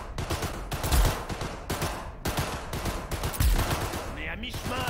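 Gunfire in Cyberpunk 2077: a steady stream of rapid, loud shots fired in quick succession, close and punchy, with a couple of heavier thumps and game sounds mixed under a speaking voice.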